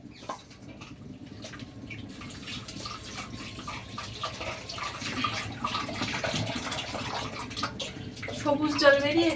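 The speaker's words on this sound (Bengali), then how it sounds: "এবারে ঠান্ডা জলে ধুয়ে নেব।" Cold tap water runs steadily into a basin during washing, with continuous splashing and trickling that grows slightly louder toward the end; a voice talks over it.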